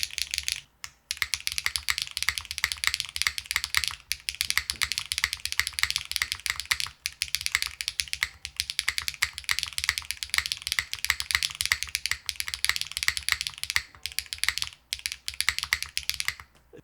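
Fast, steady clicking of a KeyBay mechanical keyboard with a plastic plate being typed on up close, a dense clatter of keystrokes with brief pauses and no talking.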